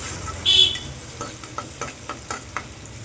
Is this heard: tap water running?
no